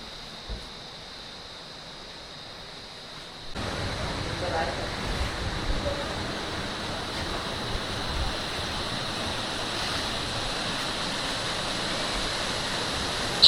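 Waterfall in the forest at Gundichaghagi, Keonjhar, Odisha: a steady, broad rush of falling water that starts softly and swells to a full, continuous roar after a few seconds, with no speech over it.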